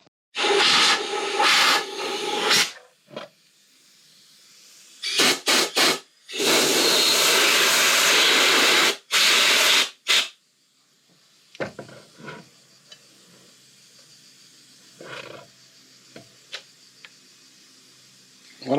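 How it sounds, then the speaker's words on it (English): Bursts of compressed air hiss loudly in long blasts and short puffs as dirt is blown off the final drive parts of a BMW R1200GS GSA motorcycle during a spline lube service, with quieter handling noises between blasts. "What I'm doing is I'm just cleaning all dirt very careful here and put some air pressure from a little bit far away"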